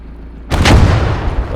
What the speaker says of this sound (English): it wants to fire directly as opposed to lobbing the rounds in. And again we take the wall out.